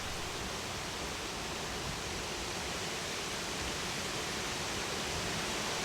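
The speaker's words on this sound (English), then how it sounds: "the harder the wind was blowing, and it really made the leaves rattle." Strong wind rattles dry autumn leaves in the hills near a mountain creek, a loud, unbroken rushing hiss much like flowing water that holds steady throughout with no voices.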